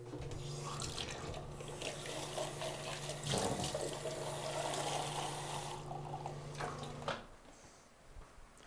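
Water runs steadily from a sink tap for about seven seconds as a cup is rinsed and refilled, a continuous splashing rush that cuts off near the end, leaving a quiet room.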